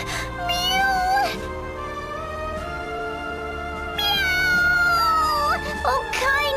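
Cat meowing in the video game Bravely Second, two long drawn-out mews over a steady musical background, the second louder and longer, each with a rising then falling pitch.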